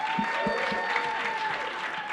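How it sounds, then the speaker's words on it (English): An audience applauds for a birthday at a vaping-industry event in New York, a short burst of moderate clapping with a faint murmur of voices underneath. "So round of applause"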